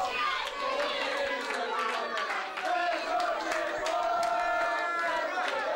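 Loud, continuous roar of a wrestling crowd at a heavyweight title match, with shouts and cheers rising and falling throughout, steady and dense without pause.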